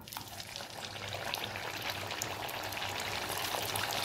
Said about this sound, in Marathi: मीडियम फ्लेमवरतीच त्याला छान डीप फ्राय करून घ्यायचे आहे